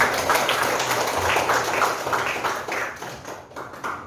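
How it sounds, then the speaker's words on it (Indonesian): A class of students claps together in a classroom during a school lesson: a steady, fairly close patter of many hands that thins slightly toward the end. "Tepuk tangan kembali."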